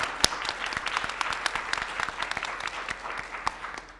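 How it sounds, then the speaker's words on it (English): An audience at a writers' festival breaks into steady applause, a dense wash of many hands clapping throughout, fairly close and without speech. "Yes, go ahead and clap."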